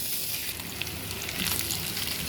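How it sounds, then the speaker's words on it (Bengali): Vegetables hit a hot pan for chicken fried rice, giving a dense, loud, continuous hiss of sizzling that stays close and even throughout. "এবার সবজিগুলো আমি এখানে ঢেলে নিব নিলাম"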